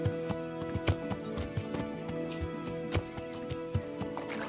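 Steady rhythmic clip-clop of horse hooves at a walk in the video game Kingdom Come: Deliverance, near a bridge over water, moderately close, with no talk over it.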